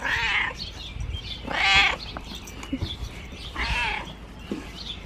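A pet cat meows loudly in three drawn-out calls spaced across a few seconds, with faint indoor background noise and short soft sounds between the cries.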